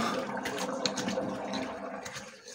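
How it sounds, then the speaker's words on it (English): Cold water runs steadily from a tap into a bathroom sink during a morning wet shave and face wash, a continuous close splashing and gurgling with no talk over it. "I wash up my sink and I wash up my face with cold water"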